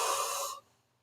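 A single yawn: a breathy, broadband exhale lasting about half a second, then trailing off into near silence.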